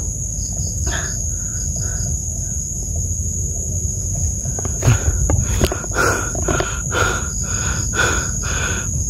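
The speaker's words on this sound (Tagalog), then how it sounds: "Pakinggan nyo yung mga huni o mga nakapalibot ng mga tunog" Night insects such as crickets chirr continuously in a forest at dusk, with repeated chirping calls and occasional bird or animal calls rising over a steady high-pitched drone; no one speaks.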